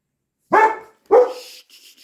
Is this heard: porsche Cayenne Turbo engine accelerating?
no